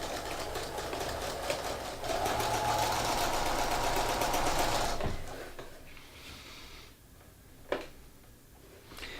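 Sewing machine stitching a double hem on a shirt, running fast and steady up close for about five seconds, then stopping, followed by faint handling sounds and a brief click.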